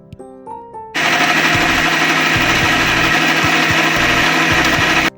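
A loud mixer grinder starts abruptly, grinding whole garam masala into a paste with a harsh, steady motor whir and rattling jar, close up and with no talk, running for about four seconds before it cuts off.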